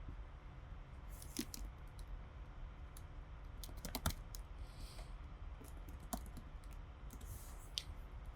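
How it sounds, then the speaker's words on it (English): Quiet typing on a computer keyboard while entering a search, with irregular soft key taps and a few sharper clicks over a low room hum. "Let's just type in Cartersville Walmart."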